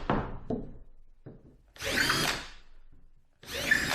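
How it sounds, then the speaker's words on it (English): A power drill whirs in short bursts close by, spinning up and winding down between pauses, with a couple of longer grinding runs. "So let's drill some holes."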